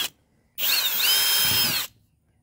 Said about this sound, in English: I'm going to come in with my hole saw and drill a hole just like that.